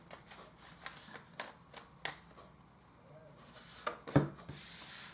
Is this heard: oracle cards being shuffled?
yes